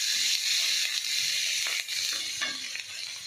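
Ginger, garlic and onion fry in hot spiced oil as a base for a chickpea curry, giving a loud, busy sizzle with stirring scrapes and crackling bursts close up.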